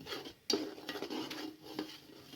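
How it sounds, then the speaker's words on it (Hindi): A spoon scrapes and clinks against a pot as dry semolina is roasted over low flame without ghee, with quiet, irregular stirring strokes close by. "इसके अंदर मुतवातर आपने चम्मच चलाना है ताकि तमाम तरह से ये अच्छी तरीके से लाइट सी ब्राउन हो जाए"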